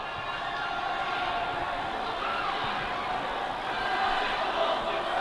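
Spectators at a St. Paul's versus Deerfield ice hockey game roar in a steady, loud wash of cheering and shouting that swells slightly toward the end, with no clear commentary over it.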